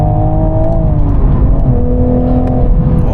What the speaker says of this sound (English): Downshift into third, in gear acceleration.